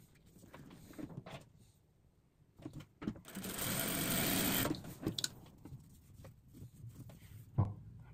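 Sewing machine stitching small fabric scraps in a single steady run of a couple of seconds, close and fairly quiet, with scattered handling clicks before and after.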